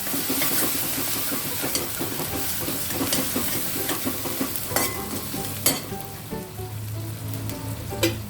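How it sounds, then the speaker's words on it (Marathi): Tomatoes and coriander powder sizzle in a hot spice tempering for a mixed vegetable sabzi, with steady frying hiss and repeated clinks and scrapes of a spoon stirring the pan. "1 स्पून धने पावडर टाकायचं आणि टोमॅटो टाकायचे. लगोलग टोमॅटो टाकले की प्युरी जळत नाही, फोडणी जळणार नाही आपली."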